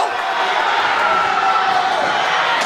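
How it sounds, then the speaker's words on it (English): A wrestling arena crowd roars in a dense, steady wall of cheering, loud and continuous with no break. "And the crowd goes wild."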